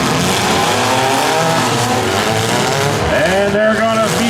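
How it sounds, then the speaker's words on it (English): Demolition derby cars in a Stock Mini Smash final revving hard and spinning their tires for traction, loud continuous engine whine with sliding pitch sweeps and tire squeal, with a commentator talking over it. "they're going to be scratching for traction here"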